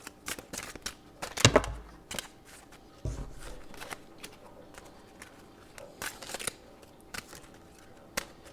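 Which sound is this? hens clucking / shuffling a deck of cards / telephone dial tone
shuffling a deck of cards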